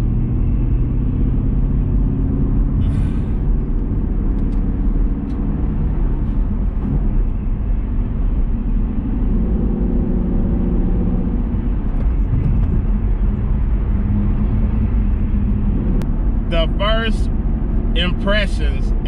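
A 2022 Rapid Blue Chevrolet Camaro SS 1LE with a manual gearbox cruises on the highway, steady loud engine and road rumble filling the cabin, with someone talking over it throughout.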